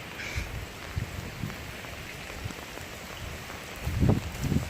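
Rain falls during Hurricane Irma in Tennessee, a constant soft hiss of drops on surfaces with faint bumps and gusts, quiet and close, louder toward the end.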